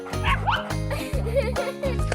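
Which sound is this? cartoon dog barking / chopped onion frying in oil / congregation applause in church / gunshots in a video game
cartoon dog barking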